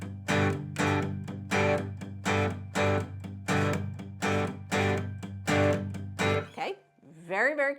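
Acoustic guitar strumming a driving, accented rock rhythm for a song lesson: steady, loud strokes in an even pulse lasting about six seconds, followed by a brief higher picked flourish at the end.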